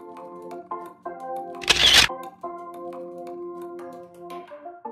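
A single shutter click from the camera app of a Hytera PNC380 PoC radio phone, a short broadband snap about midway through, with a steady tonal hum running underneath before and after it.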